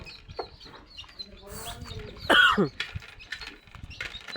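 Country chickens and young chicks a few months old cluck and chirp in a pen, with one louder rooster-like call standing out amid scattered soft clucks and faint talk.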